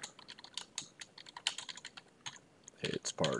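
Rapid, irregular keystrokes on a computer keyboard while entering a part record into an inventory form, close and crisp, with a few heavier thumps near the end.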